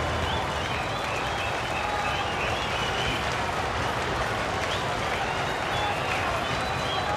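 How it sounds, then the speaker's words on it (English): A restless cricket stadium crowd during a long delay in an India versus Pakistan one-day match, a dense, steady roar of many voices and movement that runs throughout. "The crowd getting very restless."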